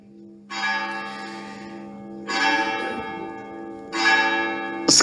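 Church bell rung during Mass, three separate clear strikes about two seconds apart, each ringing out with a lingering hum, moderately loud inside the church.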